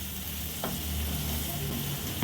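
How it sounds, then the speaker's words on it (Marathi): Turmeric tempering fries in oil for vada pav filling, a soft, steady sizzle close by with a brief stir near the start, fairly quiet and without voices. "छान आपण तेलावर परतून घेतली आहे"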